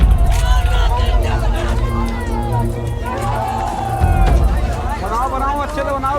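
Angry crowd at the Mahakumbh stampede scene blocking an official's car: a loud, dense hubbub of many shouting voices, continuous throughout with rising surges, close and overlapping.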